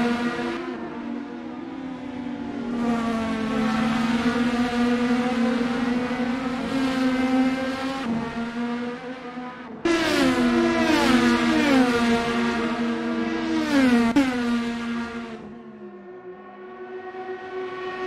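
An IndyCar leaving the pits at Road America, engine note rising through gears in two strong pulls, loud and near, then fading away.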